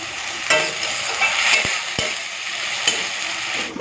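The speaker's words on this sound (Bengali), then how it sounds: "খুব ভালো করে কষিয়ে নিই" Ground fennel paste, whole cumin, ginger and green chili frying in a pan, a loud close sizzle with a spoon scraping and stirring through it, occasional sharp knocks against the pan.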